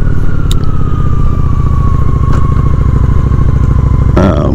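Honda Shadow 750 ACE motorcycle cruising at speed on an interstate, a steady loud engine drone with wind rush throughout, a rising whine sweeping past, and a brief burst of noise near the end.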